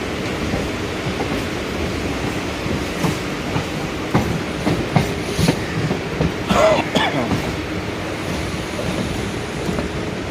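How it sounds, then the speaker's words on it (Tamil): The Charminar express train bound for Hyderabad, heard from a Chennai suburban station: a continuous heavy rumble of rolling stock with scattered clanks and metallic clicks, growing louder with bursts of clatter midway before settling back. "இதுதான் ஹைதராபாத் செல்ல வேண்டிய சார்மினார் அதிவிரைவு ரயில்"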